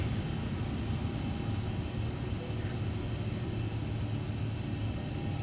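An airliner in Microsoft Flight Simulator climbs after takeoff, a steady broadband engine rumble and roar holding at an even level throughout with no voices.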